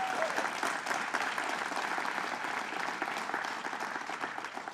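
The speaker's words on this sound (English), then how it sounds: "Let's give him a big round of applause." Audience at a governor's press event announcing a Bronx studio expansion applauds a borough president, a moderately distant, steady wash of many hands clapping that slowly fades.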